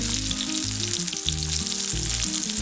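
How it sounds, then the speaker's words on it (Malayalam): Sliced onion sizzles steadily in hot coconut oil in a pan, a dense continuous frying hiss, close and loud, with no voices. "ഇനി എണ്ണ ചൂടായതിന് ശേഷം ഇതിലേക്ക് നമുക്ക് സവാള ഇട്ട് കൊടുക്കാം."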